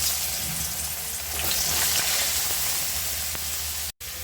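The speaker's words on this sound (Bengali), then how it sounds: "এখন আমি আলুগুলো ভেজে নেব।" Potatoes fry in oil that sizzles steadily with a broad, constant hiss, close and fairly loud, with faint scrapes and a brief dropout near the end.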